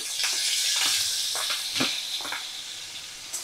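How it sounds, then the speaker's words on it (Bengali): Turmeric- and salt-coated shrimp frying in a pan over a medium flame give a steady hissing sizzle with a few soft stirring scrapes, close and alone without talk. "আর চিংড়ি মাছগুলো মিডিয়াম ফ্লেমে রেখেই ভাজা করব।"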